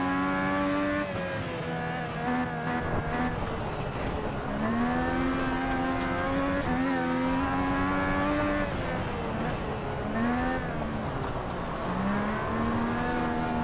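FIA Cross Car race cars on a dirt track make a continuous droning engine roar, with several motors revving and shifting pitch as they accelerate and lift off, loud and steady throughout with no talk.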